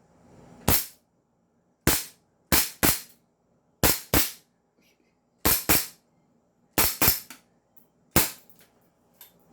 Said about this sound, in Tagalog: Firing po tayo mga airsoft.